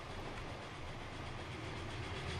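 A steam locomotive in the Transport Fever game hauls a heavy train in a race on the Gotthard map, heard as a steady, loud rolling rumble with continuous wheel clatter and no talk.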